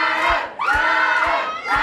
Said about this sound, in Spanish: Fuerte el aplauso para Sharon, por favor.